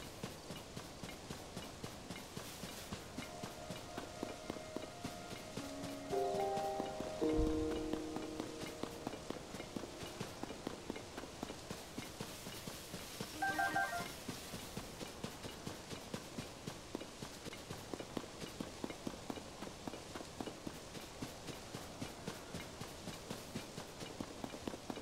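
A horse gallops in Zelda: Tears of the Kingdom, with steady, rhythmic hoofbeats continuing alone for about 25 seconds at a modest level. A few brief tonal game chimes ring out partway through.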